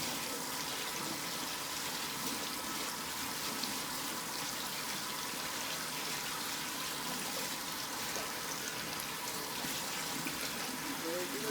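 Tap water runs steadily into a sink while someone washes their hands in a home kitchen during deep frying, a constant soft splashing hiss that stays even throughout.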